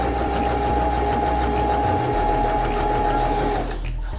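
Sewing machine stitching a fabric strap, a steady close mechanical whir with a rapid even needle rhythm for a few seconds before slowing and stopping.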